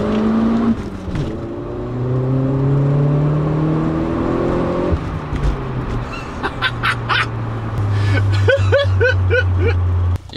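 Car accelerating hard with a shift from first to second gear, a loud rising engine whine that drops at the change and climbs again, followed by clattering and knocking noises.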